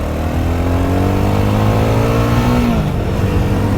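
A 2026 BSA Bantam 350 single-cylinder motorcycle engine revs loudly and steadily, its pitch holding and then dropping sharply as the throttle closes near the end.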